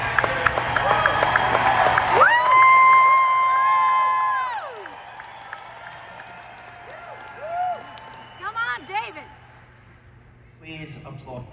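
An audience claps, cheers and whoops, starting with a dense burst of applause and then thinning into scattered shouts and calls at moderate distance.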